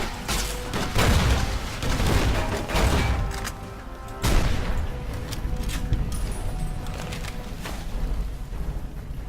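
Missile launchers firing during a battle at Hoover Dam in the video game Fallout: New Vegas, with several heavy booms and blasts spread through the clip under a continuous rumbling background of combat.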